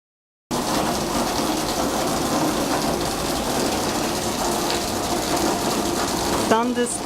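Thunderstorm rain in Playa del Carmen, a steady dense hiss of heavy rainfall that starts abruptly and continues unbroken, with a faint tonal sound near the end.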